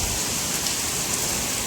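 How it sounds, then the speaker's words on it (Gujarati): Heavy, continuous rain falls steadily during a village flood, a loud, uniform hiss close by and with no voices. "વરસાદ હજી એમનામ ચાલુ જ છે."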